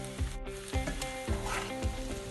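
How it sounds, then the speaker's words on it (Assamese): Mushrooms with fried onions, salt and black pepper are stirred in a pan for a butter mushroom fry, giving a steady, close sizzle with repeated scraping stir strokes over background music. "এতিয়া ভালকৈ লৰাই লৰাই ভাজিব লাগিব।"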